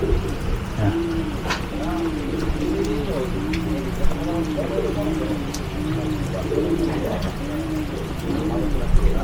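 Pigeons at a roadside pigeon stall coo steadily in repeated rounded phrases, with several birds overlapping against a busy background murmur.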